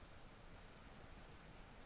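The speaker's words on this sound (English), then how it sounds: "And yep, it's raining." Rain falls in the Vintage Story video game, a faint, even wash of drops continuing without pause.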